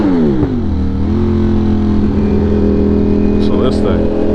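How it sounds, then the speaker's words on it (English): A big-engined motorcycle of about 200 horsepower revs and accelerates loudly up close, its pitch climbing and shifting through several rises, with a brief higher whine near the end. "It's just a motorcycle. It has 2 wheels and an engine, a big old engine."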